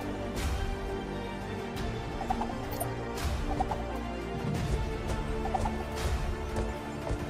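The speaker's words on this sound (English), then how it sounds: "there's more giant chickens." Giant chickens in Minecraft cluck and squawk in a steady game soundscape, with scattered bright pecks and knocks over a constant low background hum.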